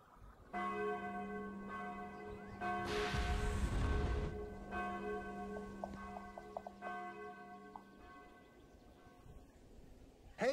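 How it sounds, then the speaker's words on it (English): Bells ring in the Xbox video game Sudeki, tolling slowly and resonantly with long ringing tones, broken by a burst of noise, a few quick tinkling notes and a brief sound at the end. "the alarm bells are ringing"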